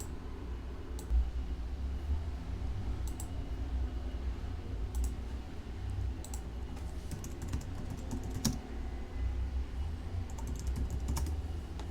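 Keys clatter steadily on a computer keyboard while setting up a cloud server, with close, irregular clicks and occasional sharper taps over a quiet room hum.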